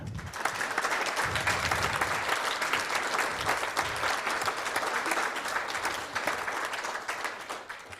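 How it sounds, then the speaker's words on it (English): A round of applause for parents from a scholarship ceremony audience, dense sustained clapping filling the hall for several seconds at an even, full level. "So I want you to give a round of applause to your parents."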